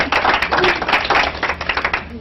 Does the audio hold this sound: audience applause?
yes